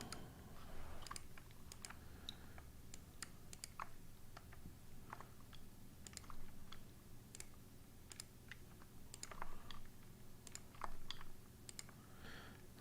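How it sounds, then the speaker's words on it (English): Computer keyboard typing and mouse clicking at a desk, irregular bursts of quiet close taps and clicks scattered over a low steady room hum, with no talking. "A lot of clicking going on here."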